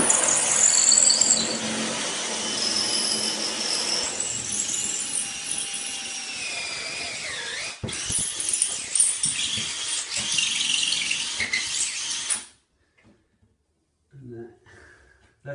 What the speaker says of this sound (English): When I get to the board, I'm going to put it just on drill so it cuts into the board.